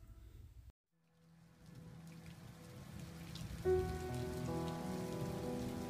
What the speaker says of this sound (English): Soft rain pelted down upon a city within a different type of world